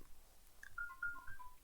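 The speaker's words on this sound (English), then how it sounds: "And there's my phone ringing." A phone rings indoors with a short, faint electronic warbling tone repeating for a moment over quiet room noise.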